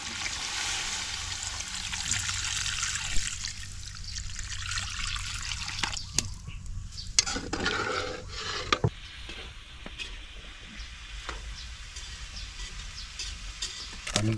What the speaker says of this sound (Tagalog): Lagyan na natin po ng tubig.